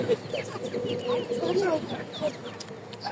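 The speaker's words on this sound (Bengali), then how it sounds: "এখানে আমরা দেখছিলাম মোরগ, মাশাআল্লাহ খুবই সুন্দর" Roosters and chickens at the Hasnabad poultry market cluck and call in a busy, continuous chorus, with crowd voices murmuring underneath throughout.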